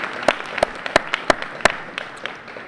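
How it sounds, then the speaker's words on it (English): Scattered handclaps at a 2018 college athletic awards banquet, roughly eight sharp, separate claps with uneven spacing, fairly close and fading slightly toward the end, with no talking over them. "let's hear one more round of applause for all of our teams, coaches, staff, athletes"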